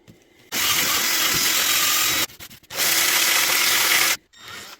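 Coarse-grit sanding on a scrap wood ring blank, two long loud abrasive passes close by, separated by a short break with small knocks, then a brief softer touch.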